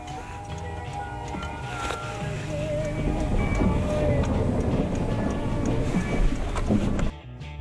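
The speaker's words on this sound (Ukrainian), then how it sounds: "Я включив спорт режим, газ в пол, трошки понесло навіть." A BYD E6 electric minivan accelerates hard in sport mode, heard from inside as a rising electric-motor whine over a steady rumble of road and cabin noise, with some tonal shifts. The noise drops away abruptly at the end.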